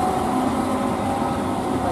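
Kertajaya passenger train from Surabaya rumbling past close by, a continuous loud roar of wheels and carriages with no talk.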